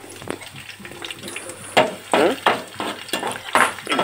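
Tempering spices (talimpu) crackle and sizzle in hot oil with stirring and scraping in a pan, arriving in irregular louder bursts over a steady frying hiss.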